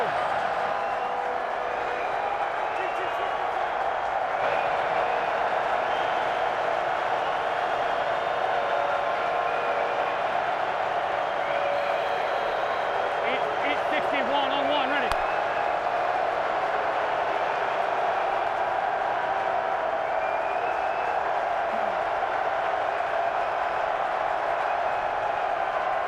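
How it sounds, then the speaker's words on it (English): A football stadium crowd at an XFL game between the Seattle Sea Dragons and St Louis BattleHawks keeps up a steady, dense roar throughout, with a broadcast voice talking over it. "as you can hear, this crowd is rocking already."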